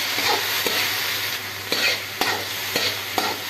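Tomatoes fry in oil in a pan for Gujarati dhaba-style pasta, giving a steady, close sizzle broken by regular scraping stirs about every half second, with no talk.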